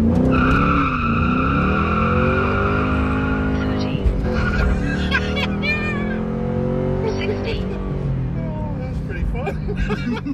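A 2001 Ford Mustang SVT Cobra with old tires spins them in a launch, giving a loud sustained squeal with rising and falling tones over engine roar, close by, with people talking at points.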